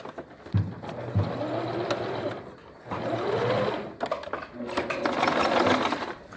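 A sewing machine stitches a seam over elastic on a dress, in short bursts of fast mechanical whirring with brief stops between runs, while someone talks alongside.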